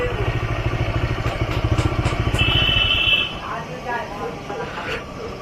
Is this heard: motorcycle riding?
yes